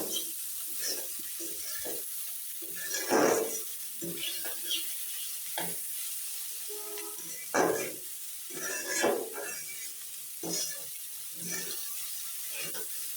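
Raw chopped onion hits a pan of frying flat beans (shim bhaji), giving a steady sizzle with scraping stirs of a utensil against the pan, clattering at intervals, moderately close.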